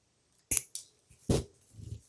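Jewelry wire being snipped with cutters, a few sharp close clicks and snaps with brief handling noise between them.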